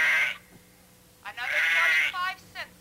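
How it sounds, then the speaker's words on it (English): A lamb or sheep bleats in a quavering, wavering call, first a short cry and then a longer, sustained one with a brief tail, loud and close, with no talk over it. "That's a lamb, a sheep."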